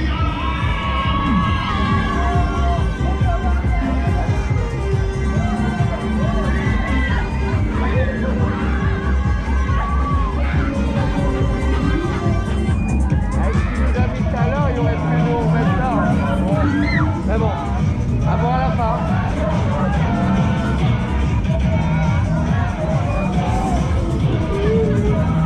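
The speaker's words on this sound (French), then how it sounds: "j'aimerais vous entendre crier" Large crowd shouting and cheering at a rainy evening outdoor event in Grenay, a dense continuous roar of voices, yells and whoops that stays loud throughout with no quiet gaps.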